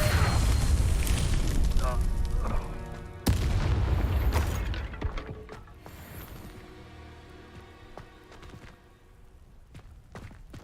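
A Confringo spell explosion in the game Hogwarts Legacy, a loud boom with a sharp burst partway through, then rumbling debris fading into quieter mechanical clatter, mixed with voices.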